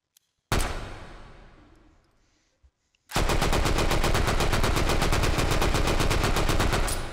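A Sten submachine gun, the cheap World War II emergency weapon, fires in the H3VR video game: one sharp shot with a decaying tail, a faint click, then a loud continuous full-auto burst lasting about four seconds.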